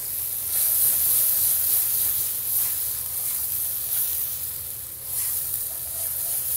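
Beef broth splashes into a hot pan for a chicken broccoli curry, giving a steady, loud hiss and sizzle with faint swells in the spray, no voices over it.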